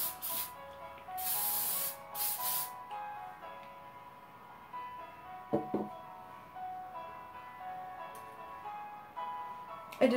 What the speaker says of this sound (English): I'm gonna give this a spray.